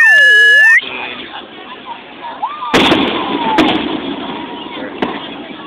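Consumer fireworks at an outdoor Florida display, a whistling launch followed by sharp cracking bursts and crackling, moderately loud and slightly distant, with a faint hiss in between.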